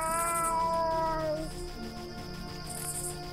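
A cat in the video game Blackheart lets out a long, drawn-out meow that slides downward, then fades into soft ambient game background.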